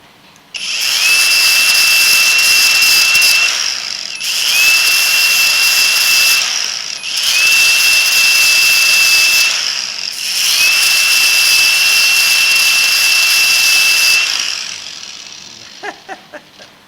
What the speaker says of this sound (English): this genuine Howdy Doody grinder.